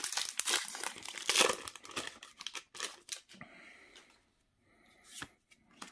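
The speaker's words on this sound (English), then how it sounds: "last pack to crack, Jack." A Magic: The Gathering Kaldheim booster pack wrapper is crinkled and torn open up close, a quick burst of crisp plastic crackling and ripping, then quieter rustles and a final short crinkle.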